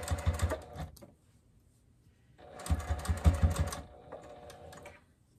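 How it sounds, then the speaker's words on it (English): A sewing machine stitches the seam of an upcycled dog bed, running in two close bursts of steady rapid whirring with a pause between them. "I'm just stitching my way around, making sure that I'm catching both sides of it"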